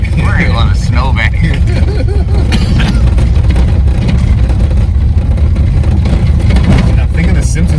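A 1955 Chevy with a turbo LS engine stuck in a snowbank during a blizzard, loud engine rumble with revving swells running continuously while people talk over it.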